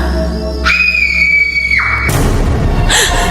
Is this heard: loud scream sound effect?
yes